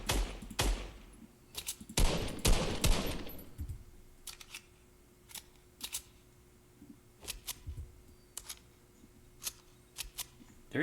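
A SCAR rifle fires in Fortnite in short sharp bursts and single cracks, a dense volley early on and then scattered shots at irregular intervals.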